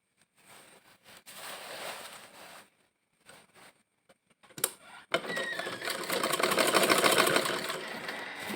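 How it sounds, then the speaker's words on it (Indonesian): A sewing machine stitches the inner seam of a skirt, first in short stop-start bursts of quiet whirring, then a louder continuous run of rapid stitching near the end. "kita jahit bagian dalamnya ya"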